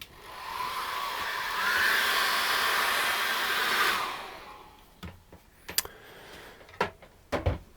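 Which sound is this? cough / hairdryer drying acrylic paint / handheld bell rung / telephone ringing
hairdryer drying acrylic paint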